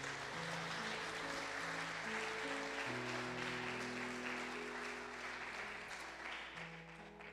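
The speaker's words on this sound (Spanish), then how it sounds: "Dele un fuerte aplauso al Señor." A church congregation applauds in a sustained, even burst of many hands clapping, with music playing underneath.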